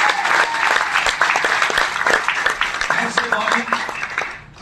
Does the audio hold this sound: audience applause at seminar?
yes